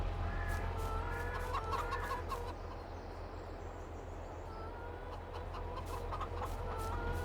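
Chickens clucking on a farm in Farming Simulator 22, repeated close clucks and short calls in bursts over a constant low hum, quieter in the middle before picking up again.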